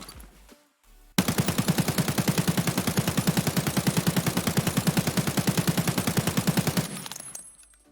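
A rapid, evenly spaced burst of automatic gunfire from a 60-round-magazine gun fired while crouching in a video game, loud and close, running continuously for about six seconds before stopping.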